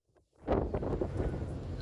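Strong sea wind on a boat deck off Gozo buffets the microphone in a continuous rushing roar, with a brief soft voice at the start.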